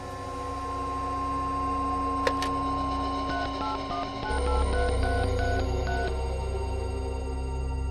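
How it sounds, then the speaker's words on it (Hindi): Telephone keypad dialing a call, a run of distinct beeping touch-tones pressed one after another, clear and close over a steady background hum, with no talking. "नीलिमा, जरा अमित को फोन करो, देखो तो कहां पर है वो।"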